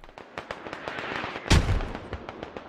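Burst-fire shots from a gun in the video game SquadOps sound as a rapid string of sharp cracks, broken by one heavy, louder blast midway, then more scattered pops.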